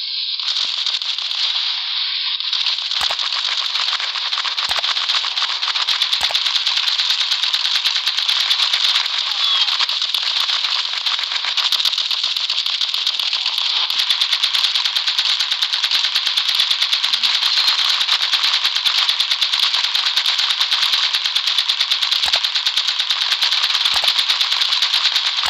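Rapid, continuous gunfire from the mobile shooter game Cover Fire, a dense crackling burst that runs loud and steady for the whole stretch with scattered sharper shots.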